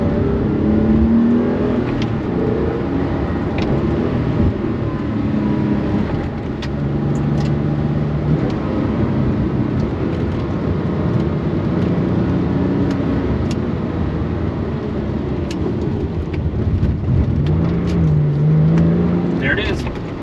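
A Porsche 911 engine runs loud and close in a garage, revving up and settling in uneven surges through a steady rumble, with someone talking intermittently over it.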